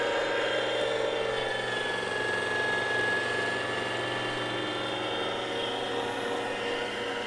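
The small electric motor of a Weston Deluxe tomato strainer runs steadily and close, grinding through cored Cherokee tomatoes with a continuous hum and fine whirring tones. There is no speech over it.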